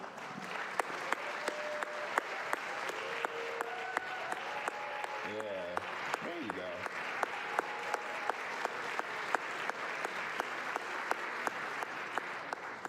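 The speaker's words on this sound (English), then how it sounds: "Please, y'all stand up and give her a round of applause, please." An audience at a Martin Luther King Jr. regional celebration claps steadily throughout, with a few crisp sharp claps standing out near the front. Someone speaks briefly over the applause.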